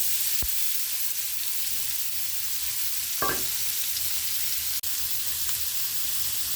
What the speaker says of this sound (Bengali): ততক্ষণে আমি এখানে একটু আমার ইয়েলো বেল পেপার এগুলো একটু ভেজে নেব